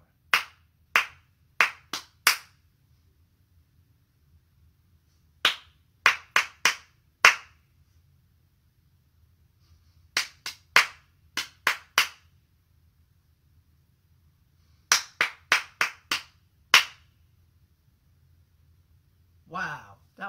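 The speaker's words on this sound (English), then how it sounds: "So I'll clap a rhythm and then you clap it." Hand clapping in a music lesson: short bursts of sharp, crisp claps in rhythmic patterns, each group followed by a pause and then an answering group, in a call-and-response exchange with near, loud claps over a low background hum.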